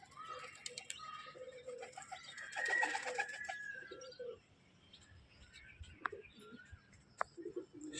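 Giribaz pigeons from an old line kept at a home loft give soft, low coos and a few scattered chirps, fairly faint, with quieter gaps and occasional sharp clicks between calls.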